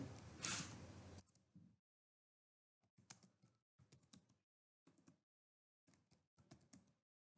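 A name being typed on a computer keyboard into a land-records database: after a brief loud noise, faint clusters of close key clicks come in short bursts separated by pauses.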